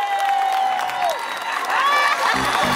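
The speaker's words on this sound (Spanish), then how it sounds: "Fuerte el aplauso." A crowd at a live concert in Los Vilos claps and cheers, with whoops and shouted voices ringing out over the noisy applause.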